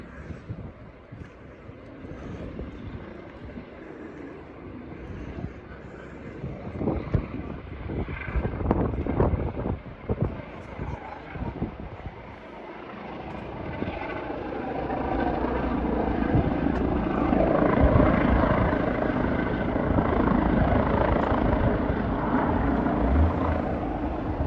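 A police helicopter flying overhead above a village, its rotor drone steady and fairly loud, swelling in the second half amid wind buffeting on the microphone.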